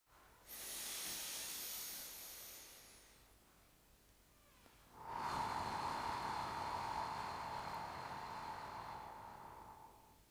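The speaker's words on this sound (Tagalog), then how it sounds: "Gumawa tayo ng 2 o 3 paghinga at man-focus tayo." Slow, deep breathing during a relaxation exercise: one long, airy inhale close to the mic, a short pause, then a longer, steady, hissing exhale that trails off, with no talking.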